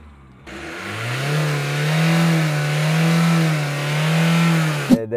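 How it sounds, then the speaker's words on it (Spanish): A SEAT Ibiza TDI diesel engine revs in neutral, rising from idle into a sustained, droning high rev that swells and eases a couple of times before dropping off sharply at the end, loud and close with no talking. "la prueba de aceleración en vacío"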